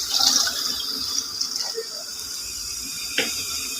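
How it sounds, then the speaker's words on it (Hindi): Water pours from a jug into a kadhi (yogurt curry) batter in a home kitchen, a steady, fairly loud splashing stream lasting a few seconds, with no talk. "अब हम इसमें पानी ऐड करेंगे, तकरीबन हाफ जग है मेरे पास जो मैंने ऐड कर दूंगी।"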